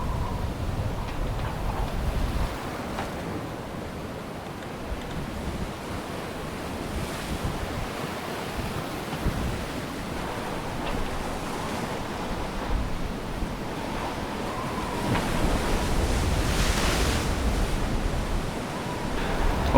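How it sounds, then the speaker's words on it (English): Wind gusts across the microphone over a steady wash of ocean waves while sailing in Alaska, swelling louder toward the end, with no voices. "No engine, just the sounds of the wind and waves."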